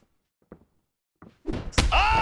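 Head kick strike landing in EA Sports UFC 2: a few soft thuds, then a heavy impact followed by a loud crowd-like roar and groaning swell.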